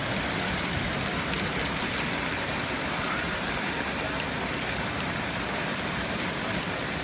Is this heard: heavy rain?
yes